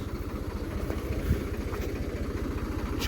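A diesel tractor engine chugs steadily at idle in a cornfield during hoeing work, with a low, even pulsing rumble, close by, with slight clatter and no speech.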